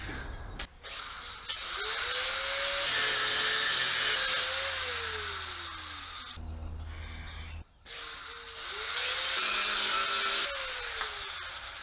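A power tool cuts and trims a body mount part for a 1949 vehicle, two long loud whining bursts with rising and falling pitch, separated by a short pause, no talking.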